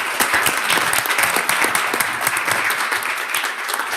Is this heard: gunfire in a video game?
no